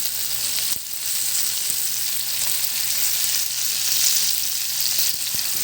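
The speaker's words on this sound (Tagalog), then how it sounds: "Haluin lang natin guys" Bitter gourd (ampalaya) sizzles steadily as it is sautéed in a pan, a continuous close frying hiss broken by a few soft knocks of stirring, with no voices.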